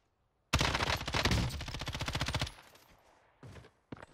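Gunfire rings out in the video game Call of Duty Warzone, a loud rapid burst of shots for about two seconds followed by a fading tail and a couple of fainter distant reports.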